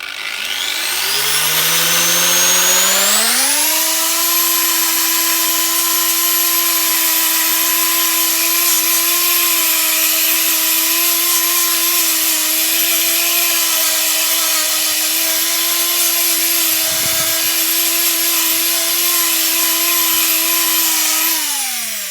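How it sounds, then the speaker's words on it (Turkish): A loud power sander spins up over the first few seconds, then holds a steady high-pitched whine, close and continuous throughout, sanding pine wood. "Şimdi zımparalamasını yapıyorum."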